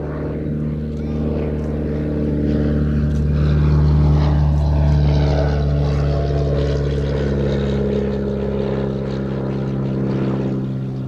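A military propeller aircraft at an air festival drones steadily overhead, its engine tone swelling and then easing as it passes, loud and continuous, with no talking.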